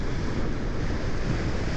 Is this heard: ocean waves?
yes